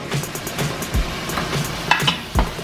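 Jamaican oxtail fries in oil in a pot on the stove top, a steady close sizzle with intermittent scraping and stirring clatter.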